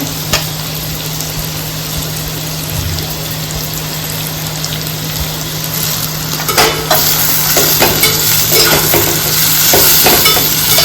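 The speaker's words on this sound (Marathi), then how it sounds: "तर हे मस्तपैकी मिक्स करून घेऊया" Chopped onion and tomato frying in a pan for a dried Bombay duck bhujane, stirred continuously: a loud close sizzle runs throughout, with scraping and clattering stirs growing busier toward the end and no talk.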